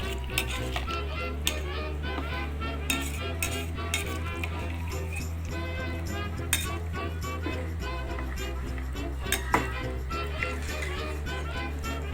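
A spoon scraping and tapping a pan while chili powder is stirred into homemade tomato rice, with regular soft clicks and light clinks over a low steady hum.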